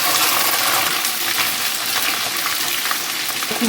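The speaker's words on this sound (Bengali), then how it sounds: "এবার রসুনটা খুব ভালো করে ভাজতে হবে" Garlic frying in hot oil in a pan while making a raw mango pickle: a loud, steady bright sizzle and crackle that continues unbroken throughout, with no talking.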